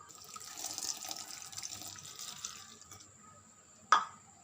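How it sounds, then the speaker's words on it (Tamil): A glass of water poured into banana bajji batter flour, a faint soft trickle and splash of running water lasting a few seconds, ending with a brief sharp clink. "ஒரு கிளாஸ் தண்ணி ஊற்றணும்."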